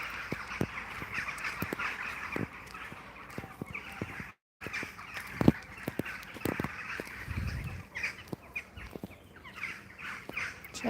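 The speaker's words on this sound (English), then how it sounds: "Can you hear the birds? They're all going to bed, look." Birds call repeatedly at dusk in short, sharp bursts over a steady outdoor hum, with overlapping chirps and caws scattered throughout and a brief pause midway.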